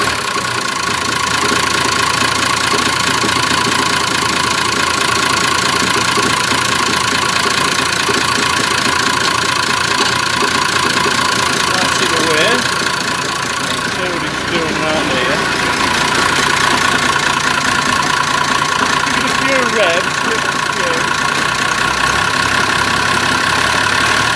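A Massey Ferguson 1200 tractor's engine ticks over steadily at idle, loud and close, with a constant mechanical clatter throughout and someone speaking briefly over it.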